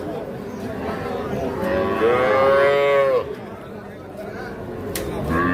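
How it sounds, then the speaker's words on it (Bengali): A young Sahiwal cross bull calf at a cattle market gives one drawn-out moo, rising and falling over about two seconds, amid steady crowd chatter. "এটা একটা ষাঁড় বাচ্চা, ক্রস শাহিওয়াল জাতের"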